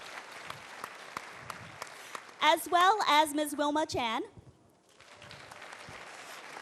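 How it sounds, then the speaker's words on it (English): Scattered audience applause for panelists at a voters forum, someone speaking briefly over it, then the clapping picks up again more softly after a short lull. "Please give her a warm round of applause."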